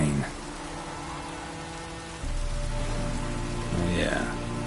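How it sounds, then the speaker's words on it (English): Steady rain patters across the open world of The Witcher 3, a dense even wash running through the whole stretch, with game music and ambient tones beneath and a brief swell near the end. "Looks like rain."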